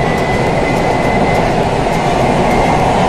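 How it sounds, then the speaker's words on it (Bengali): A Kolkata underwater metro train runs at speed beneath the Ganges, producing a loud, steady rumble and rush of wheels on rail with a faint sustained whine and no voices. "আই থিঙ্ক গঙ্গার নিচে প্রবেশ করবে মেট্রো"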